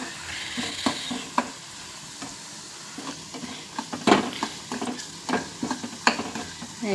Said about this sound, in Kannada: ಇದನ್ನು ಸ್ವಲ್ಪ ಎಣ್ಣೆಯಲ್ಲಿ ಬೇಯಿಸಬೇಕು